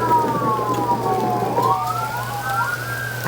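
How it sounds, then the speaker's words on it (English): Several emergency sirens wail at once from all directions during a flash flood, with overlapping rising and falling tones, heard over a steady rushing noise like heavy rain or traffic. "I heard emergency sirens coming from all angles."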